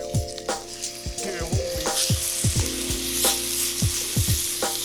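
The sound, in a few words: steak sizzling in a pan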